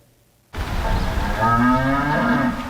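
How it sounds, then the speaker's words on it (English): A Holstein cow lets out one long, loud, close moo that swells and holds for about two seconds after a quiet start, with no talk. "The bellow of a cow's moo is quite common around Clark County"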